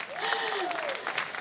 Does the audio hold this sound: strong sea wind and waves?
no